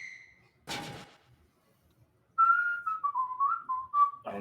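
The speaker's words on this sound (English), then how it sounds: "I don't even know what that song is. I don't know why I hate whistling" A person whistles a short tune in wavering, sliding notes, preceded by a brief faint whistle and a soft knock, close and clear with no talking.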